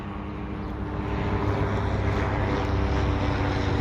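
A police helicopter flies overhead, a loud, steady rotor-and-engine drone that swells slightly and then holds, close and continuous for the whole stretch with no talking.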